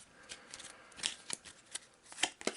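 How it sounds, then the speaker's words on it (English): A deck of cards for the board game A Touch of Evil is riffle shuffled close by, with quiet papery flutters and soft snaps in short bursts. "So we'll use the lair deck. Crappy shuffle."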